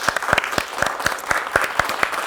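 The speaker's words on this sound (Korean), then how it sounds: "박수 한번 부탁드립니다." Applause at a 2021 online-offline green new deal job fair recruitment briefing: a small group claps in a quick, fairly even rhythm, each clap distinct and close.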